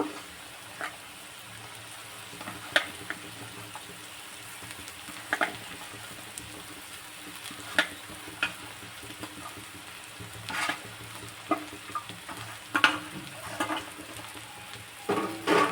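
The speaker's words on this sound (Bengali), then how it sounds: "এবার আমি কড়াইতে যে কাঁঠালের দানাগুলো সিদ্ধ করে হাত দিয়ে চেপে নিয়েছিলাম, সেগুলো দিয়ে দেব।" Steady sizzling of boiled, pressed jackfruit seeds frying in a wok, with scattered scraping and clattering stirs throughout; no voices.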